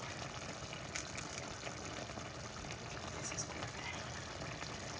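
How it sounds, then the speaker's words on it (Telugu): Brinjal and egg curry simmers in a pan, giving a faint, steady bubbling hiss with small occasional pops, quiet and continuous throughout. "చిన్న బుడగలు వచ్చేసింది, అయిపోయినట్టే"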